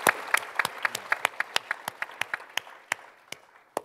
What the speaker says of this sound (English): Here you can applaud as much as you want.